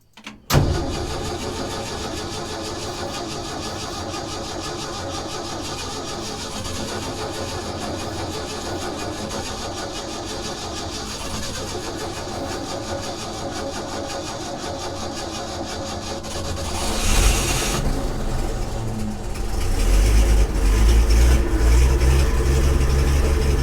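Ford F500 barn-find truck, sitting unused for about seven years, cranks over steadily for a long stretch, then the engine catches with a louder rumble and settles into a rough, loud idle nearby.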